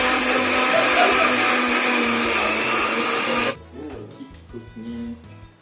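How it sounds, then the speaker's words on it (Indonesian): A kitchen blender whirs loudly for about three and a half seconds as it chops neem and papaya leaves in water for a botanical pesticide. It then cuts off, leaving light clinks and handling noises. "kita langsung blender"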